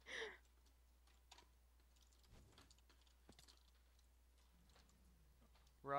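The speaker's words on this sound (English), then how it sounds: "angry typing" Sparse, faint keyboard clicks tap irregularly in a quiet room, with brief bursts of voice at the start and end.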